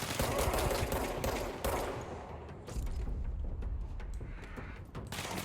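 Enemy machine gun in the video game Control firing in dense, continuous bursts, the sustained rattle broken by short gaps and sharp cracks, fairly close and alone without talk.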